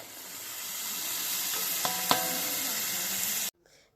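Tomato paste hitting a hot frying pan, giving a loud, steady close-up sizzle with a couple of sharp spatters near the middle before cutting off abruptly.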